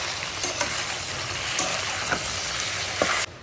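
Tomatoes go into a hot pan of frying ivy gourd and green chilies, with a loud, steady close sizzle and a few soft stirring scrapes before it cuts off abruptly.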